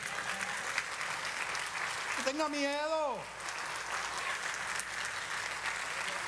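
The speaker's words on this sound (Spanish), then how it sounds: "Vamos a darle otro aplauso al Señor." A Baptist church congregation claps in steady sustained applause while a voice speaks over it, and a single sung or wailed rising-falling tone rises above the clapping partway through.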